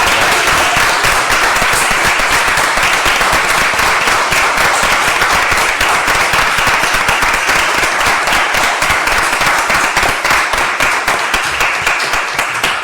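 A large audience applauds the team in a conference hall, a dense, loud, sustained wash of clapping that continues without pause.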